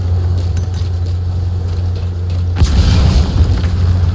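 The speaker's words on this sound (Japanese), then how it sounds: "こいつ爆発しないかな。" A fuel tank explodes with a heavy boom in Metal Gear Solid V, a loud low blast over a constant deep game rumble, followed by rattling debris.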